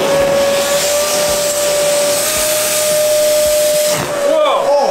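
A powerful vacuum cleaner sucks at a cabbage leaf, a loud, steady roaring hiss with a sustained whistling whine that dips and wavers near the end as the leaf is drawn in; people talk over it.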